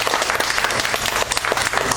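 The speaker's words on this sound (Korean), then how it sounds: "박수 칠까요?" A church congregation bursts into steady, dense applause that fills the room throughout, with no speech over it.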